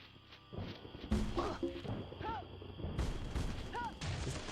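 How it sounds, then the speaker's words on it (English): Cannons fire in the pirate video game Pirates: The Legend of Black Kat, giving several heavy booming blasts a second or two apart over a rumbling game soundscape, with a voice speaking between them. "Past this like horrible cannon gauntlet."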